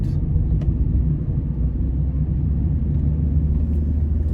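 A car driving through a residential neighborhood in Corinth, Texas, heard from inside as a loud, steady low rumble of engine and road noise throughout the short stretch, with no talk.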